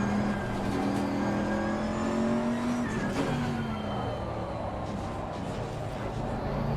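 Race car engine in the Assetto Corsa Competizione racing game, droning steadily and loud throughout, with pitch rising and falling through gear changes and faint tyre noise.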